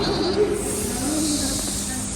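A child imitates a snake, producing a sustained breathy hiss at close range that holds for about two seconds over faint background murmur.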